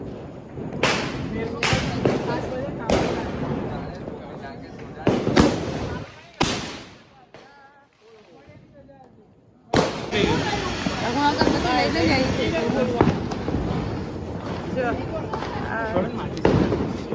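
Several sharp Diwali firecracker bangs go off close by at irregular intervals, then a bigger blast gives way to sustained crackling, with voices talking around them.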